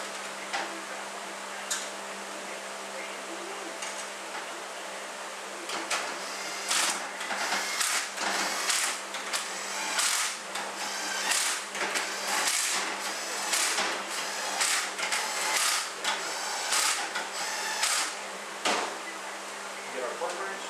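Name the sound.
torque wrench tightening transmission bolts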